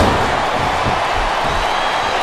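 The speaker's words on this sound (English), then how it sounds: "I love hearing the crowd come alive" Crowd cheering and roaring in the wrestling video game SmackDown vs. Raw 2007, a dense, steady wash of arena noise with a few dull thuds from ring action.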